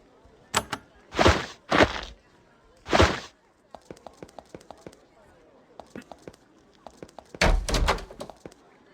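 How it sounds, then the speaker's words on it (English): A door opens in the Avernum 3 role-playing game, heard as a few loud, short thunks and bangs separated by quiet gaps, with lighter clicks in between. "You open the door and see a room with a half-dozen sleeping mats"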